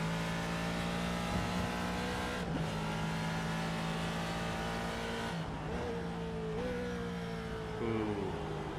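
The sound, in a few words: Ford historic race car engine revving at Sebring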